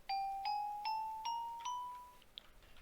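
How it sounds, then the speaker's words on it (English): A Minecraft note block on a gold block rings five bell-like dings in steady succession, each a pure bright tone with a slowly decaying sustain, played alone and clearly up front. "Gold blocks is a bell."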